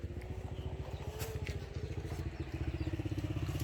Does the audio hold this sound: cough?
no